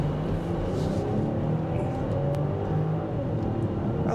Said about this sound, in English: I like the way that this vehicle accelerates